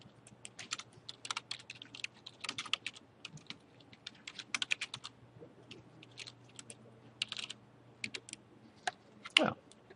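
Someone typing a username on a computer keyboard, a quiet, irregular patter of key clicks in short bursts over ten seconds, close by, with a faint steady hum underneath and no speech.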